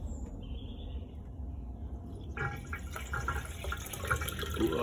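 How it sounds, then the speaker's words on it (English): Water pouring from a hose into a pool pump housing to prime it, a soft trickle that swells into a fuller gushing fill partway through, close by in a shed. "Now you need to prime this by putting a bit of water in it"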